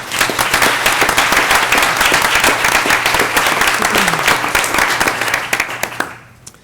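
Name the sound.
audience applause for retiring staff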